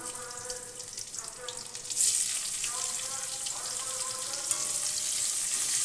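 Chopped onions hit hot oil in a pan for a spicy mourala fish curry. A loud, steady sizzle bursts in partway through and holds to the end, following a quieter opening.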